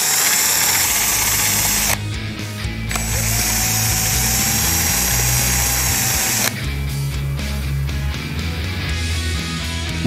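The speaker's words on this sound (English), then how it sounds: "make yourself a little flap sander with a 1/4-inch dowel, and just remove any traces of glue from the hole that way" A drill spins a small homemade flap sander on a quarter-inch dowel inside a dowel hole in an antique Stickley rocking chair, clearing old glue with a loud, steady close-up whir and grinding that briefly dips and restarts.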